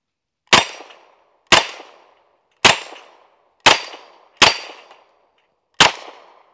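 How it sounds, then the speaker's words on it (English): An M1 Thompson submachine gun fires six separate sharp shots at steel targets, spaced about a second apart, each a loud crack with a brief ringing decay, with no voices. "Let's load the 30 and shoot at the smaller targets on the right."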